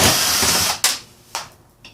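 A power drill spins out screws from a computer power supply during a recycling teardown, one long loud whir followed by two short bursts with gaps between them.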